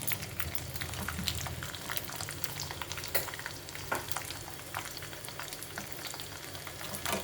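Crushed garlic cloves fry in hot tempering oil for a raw tamarind chutney, giving a steady, close crackling sizzle with scattered sharp pops and an occasional stir, alone with no talk.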